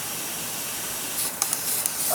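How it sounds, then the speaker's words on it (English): Continuous hiss from a pressure test on a Johnson Evinrude 40 hp gearcase lower unit, with a few short spray bursts from a spray bottle near the end, close and fairly quiet. "where's my spray bottle? Let me spray this."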